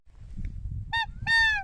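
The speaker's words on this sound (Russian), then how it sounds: "4 стаи гуся идет." Geese honk overhead during a spring goose hunt in the Komi Republic, two loud nasal calls close together over a low wind rumble.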